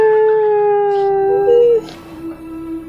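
A person imitates a dog with a long sustained howling tone, loud and close, rising in pitch midway and then tapering into a lower drawn-out cry.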